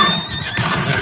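A horse whinnies in a video game during a shooter match, a steady neigh sounding close and fairly loud against busy game background noise.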